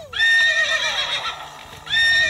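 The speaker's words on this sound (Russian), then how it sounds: "Лошадь." A horse whinnies loudly and close by in a long shrill, quavering neigh, and a second whinny starts right after it, with no talk over the sound.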